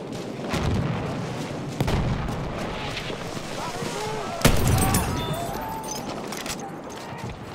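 Battlefield 1 gunfire crackles in bursts alongside heavy booms and distant battlefield noise, with a voice shouting in French over the fighting.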